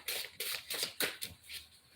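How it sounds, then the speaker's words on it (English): Tarot cards being shuffled in several quick bursts of crisp riffling and shuffling, close and fairly quiet, with short pauses between the bursts and no voices. "Let's do 3 more shuffles."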